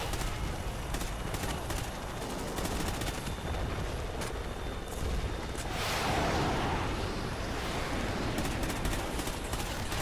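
Continuous heavy gunfire from Call of Duty Ghosts fights on a ship deck: loud, dense machine-gun and rifle fire with no pauses, and a rushing whoosh partway through.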